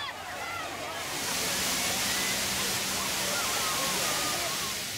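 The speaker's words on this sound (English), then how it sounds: "Fountains of every size and shape, providing heaps of fun for all the family." Large public water fountains of many sizes at the Magic Fountains of Lima in Parc de la Reserve, a dense continuous roar of splashing, falling water, loud and steady throughout.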